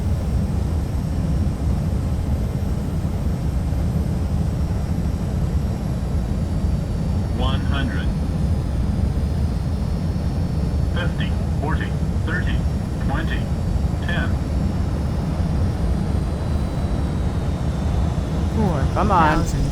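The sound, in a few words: airplane landing in X-Plane 11 flight simulator video game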